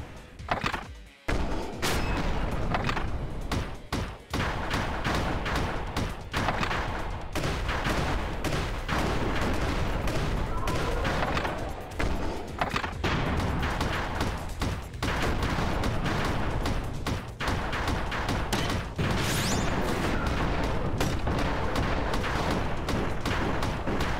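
Shotgun blasts from a side-scrolling mech shooter video game, Mechblaze, fire in a constant, loud barrage of overlapping shots and impacts that runs almost without pause.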